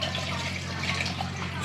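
Water from basting a roasting turkey pours steadily through a strainer into a pot, a continuous splashing rush with no talk over it.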